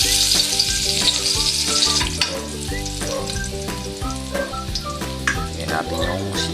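Bitter gourd frying with garlic and onion in a hot pan gives a loud, continuous sizzle, with the clatter of stirring heard up close throughout.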